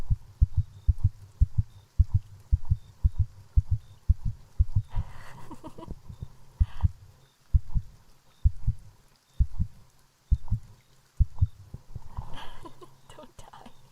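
A steady heartbeat plays in an ASMR sleep-aid stream: soft, regular low thumps in pairs, continuing for the whole stretch, with faint whispery noise and breathy sounds layered above at times.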